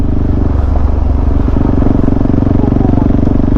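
A KTM 390 Adventure motorcycle engine chugs loudly and steadily up close on a dirt trail, a throbbing low rumble with clattering over it.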